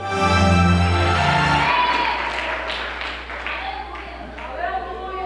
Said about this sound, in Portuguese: Aplauda Ele, glória a Deus.